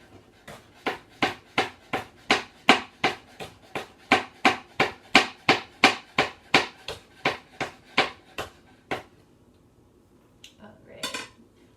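Knife chopping a chili pepper into thin slices on a cutting board, about twenty brisk, evenly spaced taps close up, then a pause and a faint shuffle.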